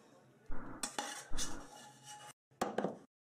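A heavy pan handled during home cooking, with several loud clanks and scrapes of cookware and utensils in bursts, close by, and no talking.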